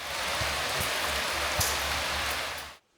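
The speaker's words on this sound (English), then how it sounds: "it's been raining heavily today" Heavy rain pouring steadily on a 200-year-old rectory as a dense hiss with a few dull thuds, close and constant before cutting off abruptly at the end.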